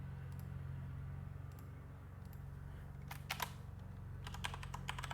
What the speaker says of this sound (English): Here, I'll type it for you.